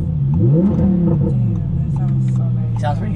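An Audi R8 accelerates hard in city traffic, a rising engine revving sweep climbing through the gears, with speech over it.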